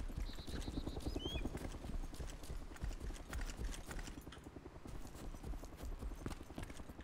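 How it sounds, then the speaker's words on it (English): Helicopter in the video game DayZ: a loud, steady, rhythmic rotor thumping that runs throughout, with a brief higher whine near the start. "Now I hear a helicopter?"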